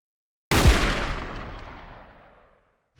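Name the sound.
gunshot sample in a music track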